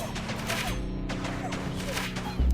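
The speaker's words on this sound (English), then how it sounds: "So now you're shooting a bit faster" Units firing in the 9Kings strategy game, with rapid overlapping shots in a steady barrage over a constant low rumble of battle, loud and continuous throughout.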